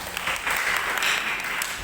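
A church congregation applauds during a worship service sermon, giving a brief, dense burst of clapping that holds steady throughout.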